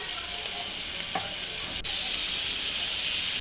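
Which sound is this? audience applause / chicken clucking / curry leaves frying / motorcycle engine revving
curry leaves frying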